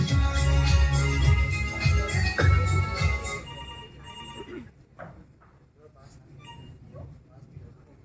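A telephone rings on stage during a theatre performance of The Mousetrap, a loud repeated bell over the first few seconds with actors' voices, then fading into quieter stage sounds and speech.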